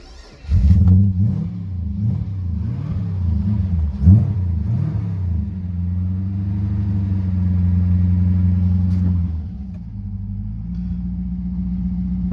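An old Holden Calais engine cranks and catches, then idles roughly with several revs rising and falling before settling into a steady rumble; close and loud, no talking.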